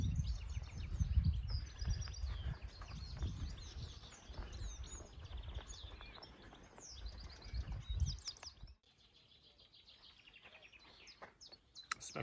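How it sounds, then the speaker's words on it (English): Birdsong fills a woodland beside an estuary, with a pheasant calling and a chiff-chaff singing from the trees. Many faint chirps and short phrases carry from a distance over a soft low rumble that drops away near the end. "You can hear pheasant calling, chiff-chaff in the trees over there somewhere."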